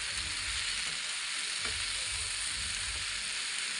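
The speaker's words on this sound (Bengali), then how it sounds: "টমেটোগুলো দিয়ে আবারও কিছুক্ষণ ভেজে নিতে হবে।" Vegetables and tomatoes fry in a pan, a steady close sizzle with soft rhythmic stirring scrapes underneath, continuous and alone without speech.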